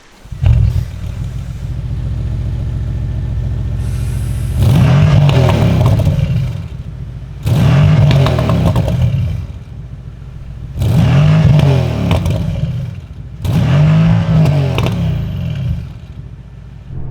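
The engine of a 2025 Bentley Continental GT Speed holds a steady drone, then is blipped in four loud, rising-and-falling revs with short, quieter idle gaps between them, and no voices.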